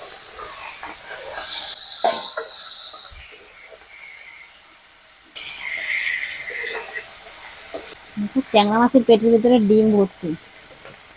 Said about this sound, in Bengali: এখন এই কেটে রাখা ট্যাংরা মাছগুলো আমি ভেজে নেব